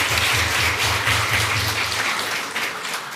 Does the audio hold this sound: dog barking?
no